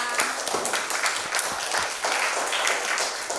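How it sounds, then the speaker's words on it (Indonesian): A classroom of children claps for a student group after their presentation, a dense, steady patter of many hands filling the room at close range. "Tepuk tangan untuk kelompoknya Anaya."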